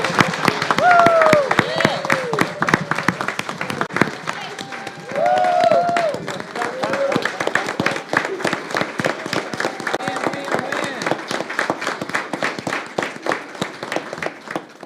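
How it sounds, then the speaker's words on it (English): Applause and cheering at a school board meeting, a crowd clapping steadily for about fifteen seconds with a whoop or two and voices mixed in. "let's give her another round of applause"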